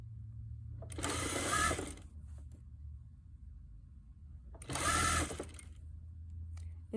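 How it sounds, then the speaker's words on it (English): A sewing machine hems a bodice dress in two loud bursts of steady stitching, each roughly a second long, separated by a quieter pause with faint low hum underneath. "So now I'm going to hem it."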